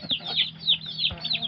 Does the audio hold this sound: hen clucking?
yes